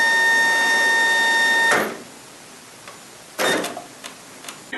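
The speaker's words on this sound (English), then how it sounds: "The printer will then feed a couple blanks." A Toshiba label printer runs with a steady mechanical whir as it feeds blank labels and calibrates, then stops, followed by two short clicking feed bursts, close and clear.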